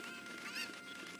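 Cucco chickens in the video game Zelda: Ocarina of Time give a brief, faint squawking honk that swells once in the middle against a steady hiss.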